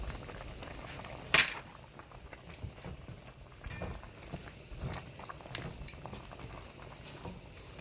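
Brown stew chicken simmering in a pot: a low continuous bubbling patter with one sharp knock near the start, soft and close, no talking.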